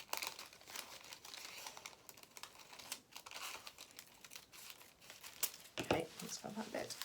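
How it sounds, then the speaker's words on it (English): Paper sewing pattern piece being cut out for a rabbit doll's dressing gown: close crinkling and rustling paper with irregular snips and handling noises, a louder burst near the end, while a person talks at times. "Just be careful not to shave anything off as you're cutting your pattern piece out."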